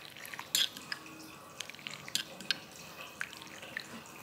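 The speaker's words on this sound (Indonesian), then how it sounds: "Ini kita aduk biar dingin nih." A spoon stirs a glass of water steeped with coriander seeds, making soft, irregular clinks and light liquid swirls against a quiet background, several small taps spread across a few seconds.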